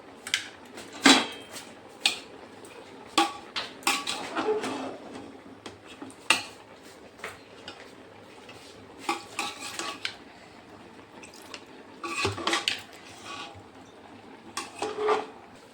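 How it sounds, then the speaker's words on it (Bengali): A spoon scrapes and clanks against a pot as vegetables are stirred into a ginger and green chili paste, with irregular knocks and soft sizzling close by. "ভালো করে মিশিয়ে দেব এখন।"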